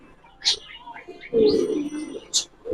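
Giriboj pigeons coo in a pigeon shop, a low throaty coo rising near the middle amid a few soft chirps and rustles, close and fairly quiet.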